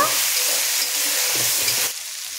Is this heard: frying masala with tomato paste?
yes